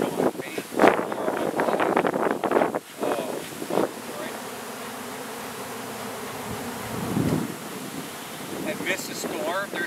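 A swarm of honeybees from a hive box hums steadily in the open air, a low continuous drone with wind buffeting and rustling over it and some louder bursts of noise near the start.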